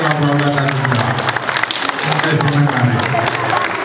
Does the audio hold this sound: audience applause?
yes